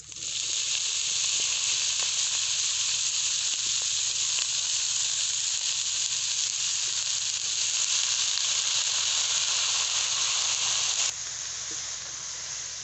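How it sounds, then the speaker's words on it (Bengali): Washed, chopped cabbage sizzles loudly and steadily in a hot pan with panch phoron spices, a dense continuous frying hiss that drops slightly near the end. "এবারে আমি কেটে ধুয়ে রাখা বাঁধাকপি দিয়ে দেবো"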